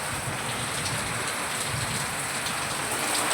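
Heavy rain pours down in a sudden storm, a dense, loud, unbroken hiss of drops hitting surfaces close by, with no voices.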